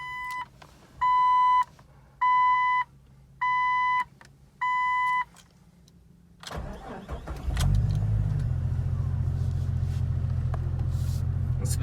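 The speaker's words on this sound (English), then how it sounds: "So the Borla exhaust has quieted down a tad bit, but it still sounds good." A Jeep XJ with a Borla exhaust gives five chime beeps before its engine cranks and catches, then settles into a steady, deep, rumbling idle heard close up.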